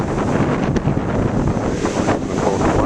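Big ocean waves break close to a hand-held microphone in a continuous loud roar, with heavy wind buffeting over the surf.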